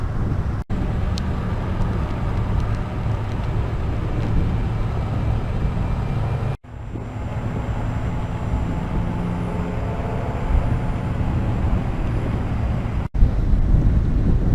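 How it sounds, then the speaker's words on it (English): Strong wind buffets the microphone of a Ninebot One E+ electric unicycle rider in a loud, continuous low roar, broken by a few abrupt dropouts. "Too windy going in this direction."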